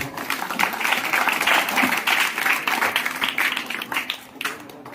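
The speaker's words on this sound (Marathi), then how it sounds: "सगळ्यांचं एकदा जोरदार टाळ्या होतील आपण सगळ्यांसाठी।" Audience at a village temple lucky-draw event claps loudly in a dense burst of applause that swells and holds, then thins out near the end.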